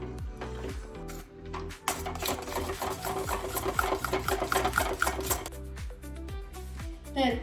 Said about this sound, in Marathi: मिक्स करून घ्यायचंय व्यवस्थित यातल्या गुठळ्या आपण विरगळतात